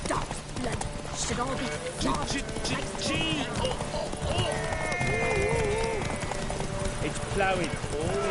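Hooves clip-clop rapidly as the horse Roach gallops in The Witcher 3 on PS5, a loud steady rhythm with game music and a talking voice over it throughout.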